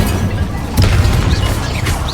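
Incendio fire spell blast in Hogwarts Legacy, a loud booming crash hitting partway through over dense low rumbling, followed by whooshing tones.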